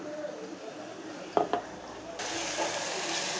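Ginger garlic paste with a little coriander being stirred and fried in a pan for veg pulao: steady close sizzling, with a couple of sharp spoon knocks against the pan partway through and brighter frying after.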